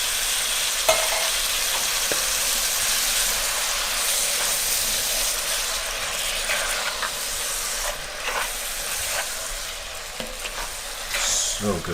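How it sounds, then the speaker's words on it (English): Canned diced tomato goes into a hot pot for chicken and white bean soup, giving a loud, steady hiss and sizzle with scattered spoon scrapes and stirring clicks throughout. "Now, let's go ahead and add in our diced tomato."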